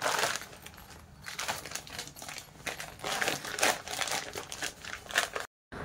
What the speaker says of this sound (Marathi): आता ही झिप ओपन करून घ्यायची आणि आपल्याला हा भाग राईट साईडला टर्न करून घ्यायचा आहे।